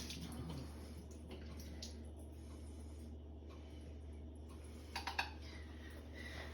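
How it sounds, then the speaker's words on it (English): Water drains out in a kitchen sink while making a white cake, a steady running, gurgling wash that holds evenly throughout, with a few small clinks near the end. "I take it over to the sink and drain the water out."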